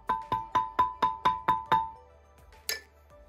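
A xylophone struck with soft mallets: eight evenly spaced, mellow notes on a repeated pitch, each fading quickly, then a faint bright knock after a short pause.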